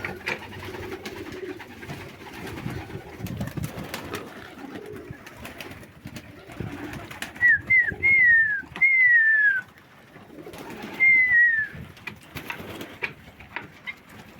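Viennese highflyer pigeons coo in a loft, several soft rising and falling calls arriving in short bursts over a low, steady room murmur, fairly close and distinct.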